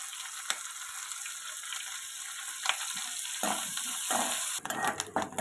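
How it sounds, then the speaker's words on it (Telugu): Dried prawns fry in hot oil in a home kitchen, giving a steady close sizzle with occasional sharp clicks and scrapes of a utensil against the pan. "అదే ఆయిల్లో ఎండ్రాయిలను కూడా వేయించుకొని పక్కన పెట్టుకోవాలి"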